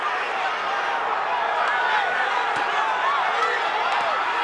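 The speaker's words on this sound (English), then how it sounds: "The crowd going crazy." Loud, roaring arena crowd cheers wildly at a 2005 lightweight title boxing bout between Diego Corrales and Jose Luis Castillo, a dense sustained wall of noise with a few sharp punch-like thuds mixed in.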